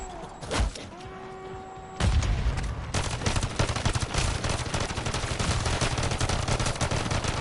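Call of Duty Modern Warfare 3 Zombies: after a few seconds of tonal game sounds and a thump, sustained rapid gunfire kicks in and continues loud and steady to the end.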